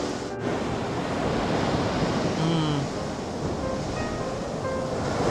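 Surf and wind on a beach: a steady broadband wash of waves with gusty wind noise on the microphone, continuous and fairly loud throughout, with faint brief tones near the middle.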